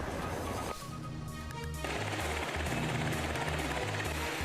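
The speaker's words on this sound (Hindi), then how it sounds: "और गोलियों की बरसात की गई है।" Rapid bursts of gunfire crackle over a loud, steady helicopter drone, with repeated volleys of shots continuing throughout.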